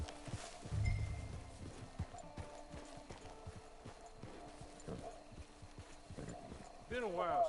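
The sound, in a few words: horse hooves clip-clopping, from a video game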